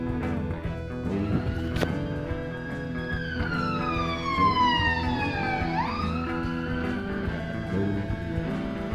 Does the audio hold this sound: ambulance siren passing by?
yes